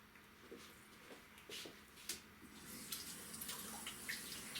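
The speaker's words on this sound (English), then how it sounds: "Excuse me while I wash my hands." Hands being washed under a running kitchen tap, a steady close stream of water with small splashes and shifts as the hands move through it, alone without talk.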